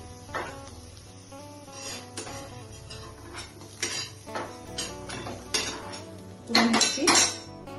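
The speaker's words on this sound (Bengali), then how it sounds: "আমি এভাবে আলুগুলোকে তুলে নিচ্ছি" Fried potatoes lifted out of a pan with a metal utensil, a series of irregular scraping clinks and clatters against the pan, fairly close, growing busier toward the end.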